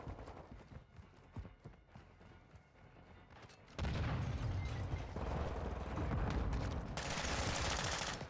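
Call of Duty video game gunfire, with scattered shots and mechanical clatter at first, then a dense, steady wash of firing that grows loud and continuous.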